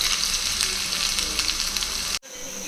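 Ginger sizzling in hot oil with pepper and cumin for ven pongal, a loud steady frying hiss that cuts out briefly near the end and then resumes.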